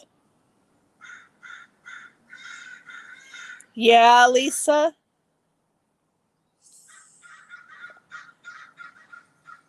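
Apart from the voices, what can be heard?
birds calling outside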